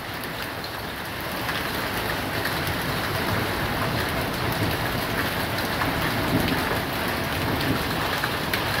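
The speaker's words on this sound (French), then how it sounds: "Oh, de belles billes qui tombent, hein." Heavy, dense hailstorm during a violent thunderstorm, hailstones about 2 cm across hammering steadily on a surface, a continuous loud roar of falling pellets with no voices, building slightly in intensity.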